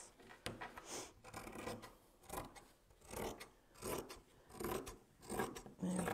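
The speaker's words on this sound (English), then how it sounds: "The sound of shears going through fabric is one of the most satisfying sounds in the world" Fabric shears slice repeatedly through cloth while trimming excess from a sewing machine cover, producing a steady series of close crisp rasping cuts at a regular rhythm, with no talking.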